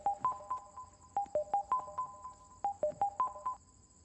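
A phone ringtone sounding while a call goes through: repeated clusters of short electronic beeps in a steady rhythm, clear and close.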